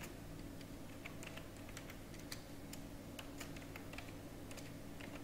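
Quiet, rapid clicking of keys on a computer keyboard while entering spreadsheet headings in MS Excel, in uneven bursts of taps with no voice over it.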